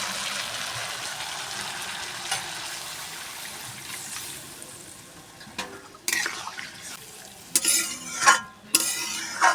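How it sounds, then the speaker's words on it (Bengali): Water poured into a pan of oily spice paste frying for a Bengali pangas fish and snake gourd curry: a steady sizzle, then sharp splashing and louder hissing bursts toward the end, with no talking. "সুন্দর তেল ছেড়েছে, এবার জল দিয়ে দেবো।"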